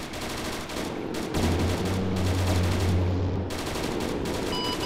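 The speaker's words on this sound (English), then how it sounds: "I'm pretty sure this guy's firing to our southwest as well" Enemy troops fire sustained automatic gunfire in Arma 3, a dense continuous crackle of shots at moderate distance, steady and loud for the whole stretch with no talk over it.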